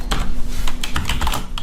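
Rapid, uneven keystrokes on a computer keyboard while an Excel formula is entered, crisp close clicks with short pauses between bursts.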